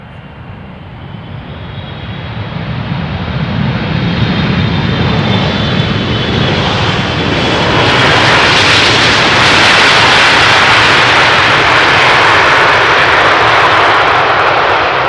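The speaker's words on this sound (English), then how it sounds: "Let's see if the pilots of this triple will also make it a soft landing" A Boeing 777 landing on runway 18R at Amsterdam Schiphol makes a loud jet roar that swells as it draws nearer and then holds at full strength, with no voices.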